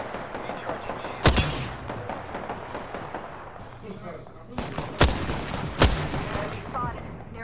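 Gunfire in the video game Apex Legends, with a few sharp loud shots standing out over quieter scattered firing, while a player talks throughout.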